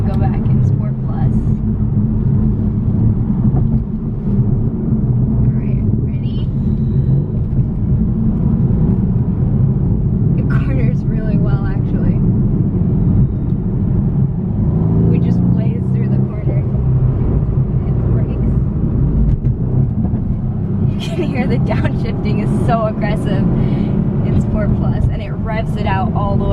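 A 2017 Mercedes-AMG C63 S coupe in Sport Plus mode gives a steady, loud, low engine rumble from inside the cabin, with brief rises in revs, and someone talks over it throughout.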